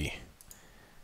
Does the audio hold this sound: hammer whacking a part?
no